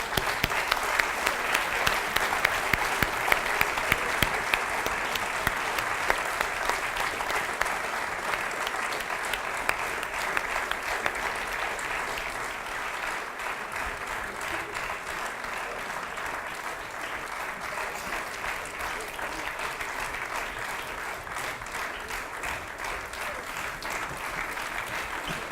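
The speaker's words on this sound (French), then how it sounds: "On peut les applaudir." An audience at a civic celebration in Yverdon-les-Bains gives steady, sustained applause for children appearing in a magic trick, a continuous wash of clapping that stays moderately loud and slowly eases over its length.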